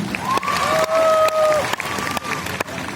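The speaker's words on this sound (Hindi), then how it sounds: "मैं चाहूंगा जोरदार तालियां" Loud audience clapping and some cheering in a conference hall, with a few sharp claps punctuating the crowd noise and voices rising over it.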